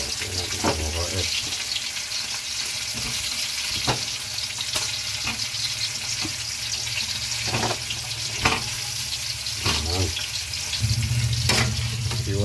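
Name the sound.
papait leaves added to pan for cooking with fried tilapia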